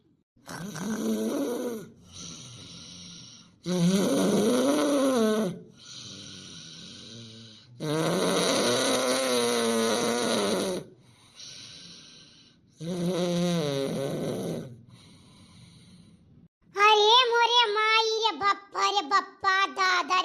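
A cartoon character snores loudly in a family comedy cartoon, with several long, drawn-out rasping snore cycles spaced a few seconds apart, followed by a higher whistling exhale at the end.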